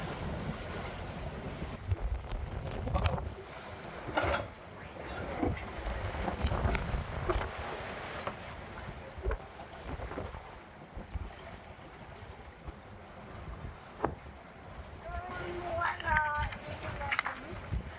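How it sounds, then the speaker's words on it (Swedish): Strong wind of 8-9 metres per second buffets the microphone over the rush of rough Mediterranean waves against a sailboat hull moving at 7 knots, with occasional creaks and knocks throughout. "Vi är 7 knop just nu och det blåser 8-9 meter per sekund."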